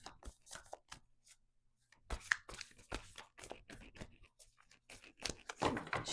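Quick bursts of papery riffling and soft slaps as cards are shuffled close by, in irregular clusters with short pauses between.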